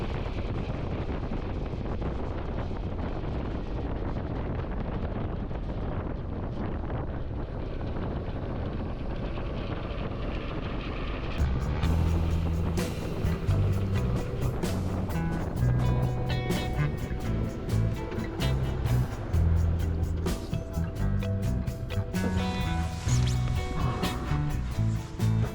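Motorcycle ride on a country road, with a constant roar of wind buffeting the microphone throughout and an engine drone growing more noticeable in the second half, close and loud.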